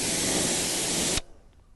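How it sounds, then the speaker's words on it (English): A spray gun blasts water over dirty car wheels during a detailing wash, making a steady, close, hissing rush for about a second before it stops sharply, leaving a faint background. "now I'm just using my gun to spray it off"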